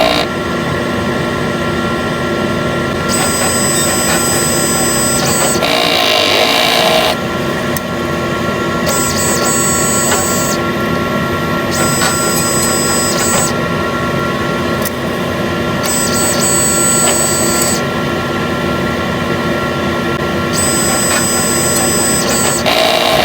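Steady mechanical whirring and clatter of a sublimation printer running a head cleaning cycle, with bursts of high-pitched whine switching on and off repeatedly.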